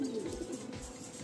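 Madrasi pigeons in a Kolkata loft give soft, low cooing notes, a short, faint, close murmur.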